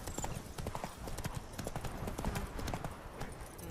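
The horse Ablette gallops in The Witcher 3 with fast, rhythmic hoofbeats on the ground, close and continuous, and no talk.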